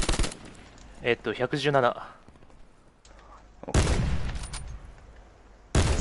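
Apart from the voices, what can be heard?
gunfire in Call of Duty Black Ops 4 Blackout video game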